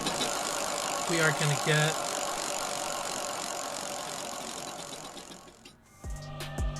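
Prize wheel spinning in the NBA 2K24 MyTeam video game, a fast rattling clicking spin that slowly winds down, with a person talking over the start and a brief musical jingle at the end.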